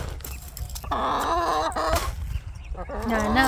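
Backyard chickens cluck and squawk close by at the coop, with several overlapping bird calls rising and falling over a few seconds amid light background noise.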